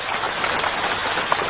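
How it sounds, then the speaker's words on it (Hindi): Steady rain falls throughout a movie scene, a dense, even hiss of drops on surfaces with no pauses and no talking. "शायद बारिश हो रही है।"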